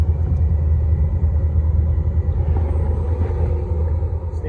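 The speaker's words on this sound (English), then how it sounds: "My induction motor starts. My igniter is trying" Gas furnace inducer motor running with a steady low rumbling hum, close and unbroken, while the igniter tries to light; no voices.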